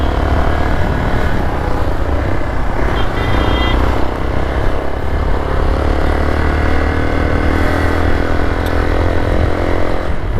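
A group of motorcycles rides past on a mountain road, their engines making a loud, continuous roar that holds steady for several seconds, close by with no clear speech.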